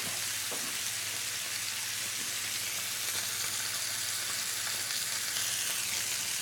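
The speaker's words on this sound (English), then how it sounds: "We can go ahead and put our sausages back in there, get a nice brown on them." Italian sausages frying in olive oil in a pan for browning, a steady, dense sizzle that holds evenly throughout, close and loud, with no voices.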